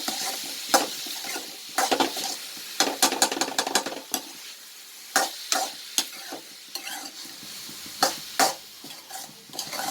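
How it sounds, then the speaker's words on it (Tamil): Green chilies, cumin and shallots fry in a pan for a Kerala-style beetroot thoran, with a low sizzle under repeated bursts of spoon stirring and metallic scraping against the pan. "இந்த பச்சை மிளகாய் சீரகம் சின்ன வெங்காயம் எல்லாம் வந்து குறகரப்பாக போது"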